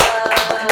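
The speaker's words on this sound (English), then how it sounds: "Hands clapping." Two hands clap a few quick, sharp times in close succession, loud and near.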